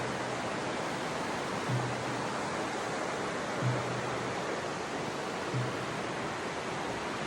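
Creek water flows in a steady, broadband rush outdoors, constant and fairly loud, with a few faint low thumps and no talking.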